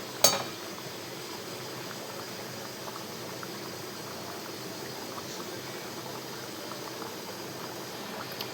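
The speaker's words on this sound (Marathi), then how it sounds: "बघू शकता अशी मस्त भाजीला उकळी पण छान आलेली आहे" A pot of spicy Marathi vegetable curry made with sorrel (ambat chuka) and dill leaves boils at a steady, rolling bubble, a continuous close simmering hiss with no voices.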